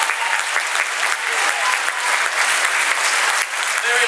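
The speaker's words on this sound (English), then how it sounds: "they deserve a huge round of applause for what they do" A school band concert audience, with a high school jazz band and steel drum band on the program, gives steady, dense applause throughout, a broad wash of clapping with faint voices mixed in.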